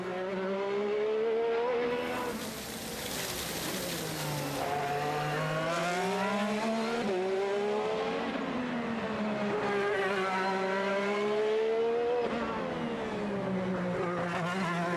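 An IndyCar race car accelerating hard around the Long Beach street circuit during qualifying, its loud, high-pitched engine note climbing and falling through gear changes and sustained close to the microphone for the whole stretch.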